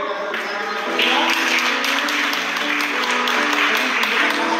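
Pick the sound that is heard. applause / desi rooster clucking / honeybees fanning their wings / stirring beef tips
applause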